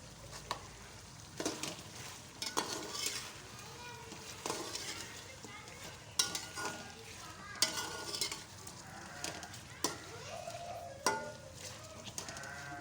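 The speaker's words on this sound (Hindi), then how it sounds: "और इसको अच्छी तरह से भूनेंगे।" Dry coriander and cumin being fried and stirred in a pan: faint sizzling beneath irregular spatula scrapes and knocks, with quiet background voices and sounds.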